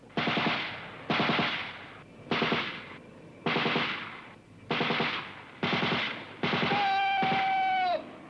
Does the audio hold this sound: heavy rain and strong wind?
no